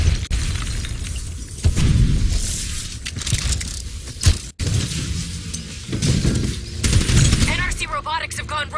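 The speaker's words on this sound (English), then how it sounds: "They're about to detonate!" Rogue robots detonating in Call of Duty Black Ops 3, loud repeated blasts and crackling debris in dense bursts, with voices speaking over the chaos.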